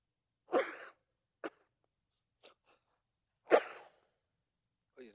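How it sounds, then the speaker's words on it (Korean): A few sharp, separate coughs sound close by in near silence, with short pauses between them. "이렇게 기침하면 큰일 나요."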